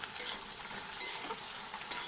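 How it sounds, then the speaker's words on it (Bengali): Steady sizzling of eggplant frying in a pan, with light scraping and stirring clicks scattered throughout, fairly close and continuous. "ভালো করে ভেজে নিতে হবে"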